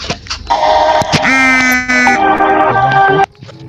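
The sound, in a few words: mobile phone ringing or buzzing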